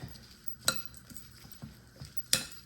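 Calcium powder being stirred into a bearded dragon's salad in a bowl, giving soft scraping and a few sharp clinks of utensil against the dish, fairly quiet and close, with no talking.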